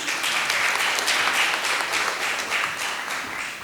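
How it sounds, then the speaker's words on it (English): Steady, full applause from the audience at the 190th Annual General Meeting as Mr. Rajiv Anand is invited to give his presidential address, a dense wash of many hands clapping without a break. "A huge round of applause for him."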